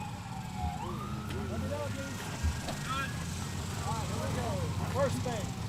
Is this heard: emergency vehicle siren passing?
yes